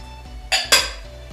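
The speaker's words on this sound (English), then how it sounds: "mix it up really well till it looks like sand" Streusel topping of sugar, flour, syrup and butter being mixed with a spoon in a bowl, two loud scraping clinks against the dish over a quiet background.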